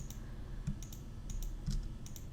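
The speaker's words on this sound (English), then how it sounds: "click backspace on your keyboard and get rid of them" Soft computer keyboard keys clicking a few times while editing in Adobe Express, quiet and sparse taps with brief pauses between them.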